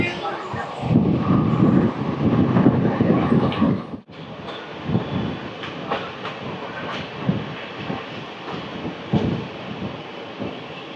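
A train on a Kerala mountain railway runs downhill, giving a rumbling, rattling roll with rhythmic clicks of wheels over rail joints, louder at first, a brief drop, then a steadier clatter with wind noise.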